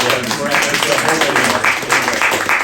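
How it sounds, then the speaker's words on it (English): Meeting attendees applaud together in a steady, dense wash of clapping that stays loud and continuous, with mixed voices faintly underneath. "Let's clap for everybody"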